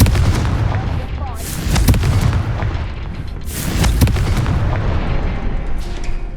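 Booming fiery blasts from the Confringo spell in the Hogwarts Legacy video game, a few heavy explosive impacts with rumbling tails over a continuous loud game soundscape.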